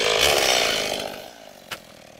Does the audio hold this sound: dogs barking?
no